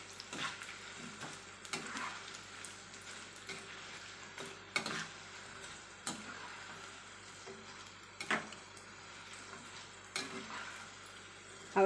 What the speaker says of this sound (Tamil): இதுக்கு மேலே கொஞ்சமாக கருவேப்பிலை ஆட் பண்ணி அதையும் இதில் போட்டு பொரித்து எடுத்துக்கலாம்.